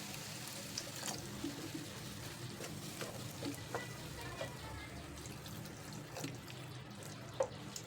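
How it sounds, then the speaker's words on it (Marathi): Water poured into a hot pan of drumstick vegetable with coriander and spices, a steady hissing and bubbling that runs the whole time, with a few faint clinks. "थोडंसं पाणी घालायचं आहे"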